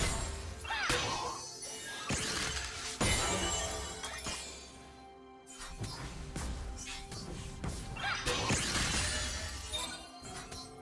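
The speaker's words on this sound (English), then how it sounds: "Blue team's turret has been destroyed." A turret is destroyed in League of Legends, heard as repeated crashing, shattering impacts and whooshes amid dense, loud game effects.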